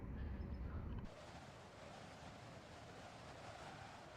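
Steady wind rushes through a train simulator scene on a windy day, a broad, even roar with a louder low gust at the very start and no voices.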